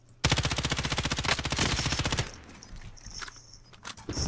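A long, rapid burst of automatic gunfire in a first-person war shooter, loud and close for about two seconds, followed by scattered distant shots and game ambience.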